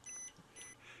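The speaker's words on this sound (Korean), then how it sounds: "지금 알람 소리가 나고 있습니다" Low-voltage alarm on a battery level meter: a short, high electronic beep, then a fainter second tone, quiet against a soft background.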